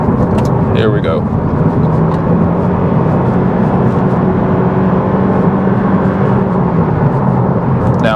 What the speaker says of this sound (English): this is an eCVT, so no traditional gears, so of course no traditional gear changes. The car is just going to scream.